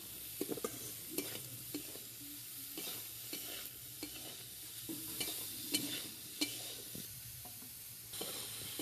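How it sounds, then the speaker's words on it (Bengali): Spices and dal being stirred in a hot pan with salt, Kashmiri chilli and turmeric, giving a steady soft sizzle under repeated close scraping strokes of a spoon, quiet and without any talk. "সব কষিয়ে নেব। একটু নেড়ে চেড়ে নেব।"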